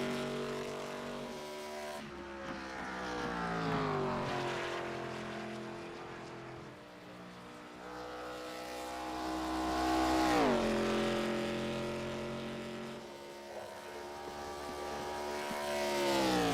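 Race cars lap Pocono during ARCA qualifying in a sim racing game, engines whining up and down through gear changes with a continuous loud drone and rising and falling pitch sweeps.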